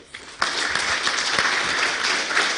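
An audience applauds at a university welcome event as the Vice-Chancellor steps up, the clapping rising sharply after a brief quiet start and holding steady and full until the end.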